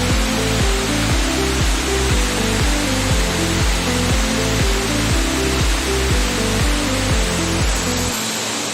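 Elephant Falls in Shillong, the first tier of the waterfall, roars as a steady, loud broadband wash of falling water that fills the whole clip and cuts off abruptly near the end.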